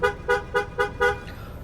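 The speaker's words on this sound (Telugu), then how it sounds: "హారన్ చూసుకోరి" A car horn toots five short, evenly spaced times, close and clear, over a low background hum.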